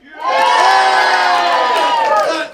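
A comedy workshop audience at a final showcase breaks into loud, sustained cheering and whooping. The roar stays at full strength for about two seconds before dropping off.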